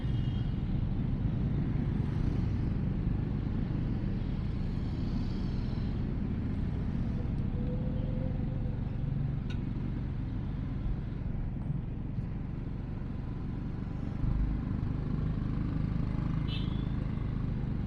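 Dense road traffic in a jam along the Pantura route, heard from a motorcycle at night: a steady, close wash of engine rumble and wind noise with passing vehicles and occasional faint horns, continuous with no speech.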